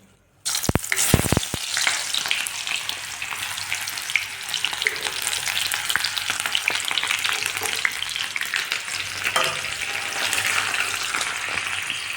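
Cumin and chopped onion fry in hot oil, starting with a sudden loud sizzle followed by a few sharp pops, then a dense, steady crackle that holds close and strong, with occasional stirring.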